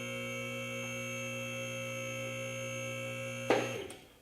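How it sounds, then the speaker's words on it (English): Safety locks on an ATLAS Platinum 10,000 lb two-post car lift drop into place with a single sharp metallic clunk, which rises over a steady electric hum from the lift motor and then rings out and fades. "this one just clunked in, and now that one clunked in"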